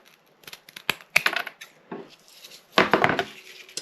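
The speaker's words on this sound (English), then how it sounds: "I'm just going to take my scissors and trim that off." Scattered crisp snips and rustles of scissors trimming stiff papier-mâché strips, with a louder cluster of cuts and crinkling toward the end, close by.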